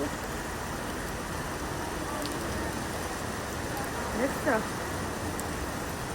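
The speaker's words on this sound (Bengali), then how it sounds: "দেখো বৃষ্টি এসে সব কাপড়গুলো ছাদে ভিজে গেছে" Steady rain patters down on a rooftop as a constant hiss, with a brief faint voice or call rising near the end.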